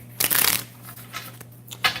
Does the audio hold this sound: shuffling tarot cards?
yes